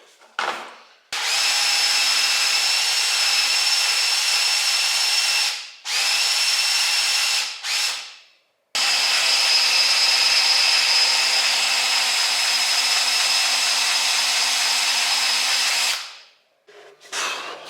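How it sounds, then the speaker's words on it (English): A power grinder, switched on in long runs separated by short pauses, grinds down setup bearings for a GM 12-bolt ring and pinion install, giving a loud, steady high-pitched whine up close with no talk over it. "making these setup bearings, I'm trying to grind them out about like 2 thousandths over"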